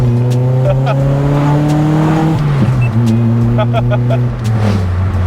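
A naturally aspirated Nissan SR20 engine in a Nissan Pulsar SSS revs and drones loudly at close range while driving, pitch climbing and dropping as it accelerates, with some pops and crackle mixed in.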